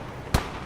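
A Jagdpanzer tank destroyer's gun fires twice in the WWII video game Squad 44, two sharp loud booms about 0.35 seconds apart, each a broadband blast, with a low ambient rumble between them.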